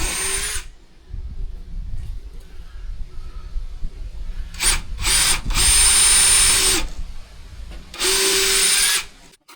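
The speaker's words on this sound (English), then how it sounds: "We got to drill all these holes and then screw them in just to be safe." Power drill whirring through deck wood in several bursts, long high-pitched runs separated by short pauses, close and loud with no talking.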